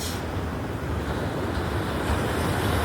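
Ocean surf rolls onto a Sri Lankan beach at sunrise, a loud, continuous roar of breaking waves mixed with wind buffeting the microphone.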